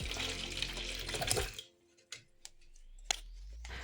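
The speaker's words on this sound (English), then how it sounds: "Stir the mixture again and pour it into the bottom of the bottle." Liquid mixture poured from a container into the bottom half of a cut plastic bottle, a short splashing pour that ends abruptly, followed by a few faint clicks and taps close by.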